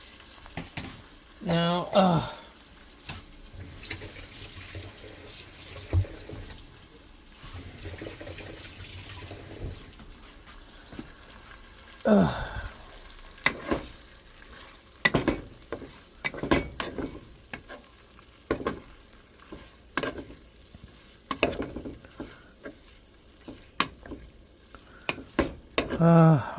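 Food frying in butter in a pan over medium heat, a steady sizzle broken by repeated stirring scrapes and clatter, with brief stretches of running water and occasional talking.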